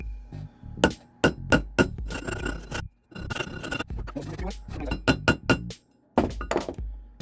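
A hammer strikes metal again and again to flare the end of a handmade spinner ring, with sharp, close clinks and thunks in quick irregular bursts and a few short pauses.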